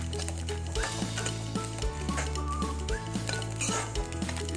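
Ajwain and mustard seeds fry in oil for a king chilli pickle, giving a loud, close sizzle broken by rhythmic metal scraping and clinking of a spoon against the pan.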